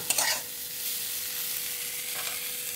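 Vegetable peels fry in a pan with a steady sizzle, while a utensil scrapes and stirs in short bursts at the start and near the end; close and moderately quiet, without talk.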